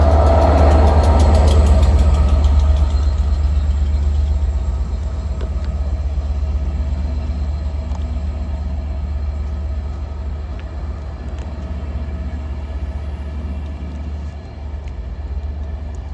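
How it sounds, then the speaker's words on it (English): A Class 67 diesel locomotive rolls through Wilmslow station with a loud, deep engine rumble that is strongest at the start and eases to a steady drone as it passes. No voices are heard. "Got a 67 coming through now. Diesel quality."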